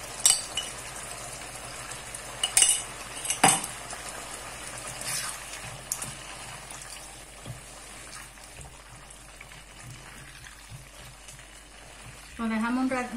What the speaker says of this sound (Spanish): Y a continuación le vamos a echar 3 cucharadas soperas de tomate frito.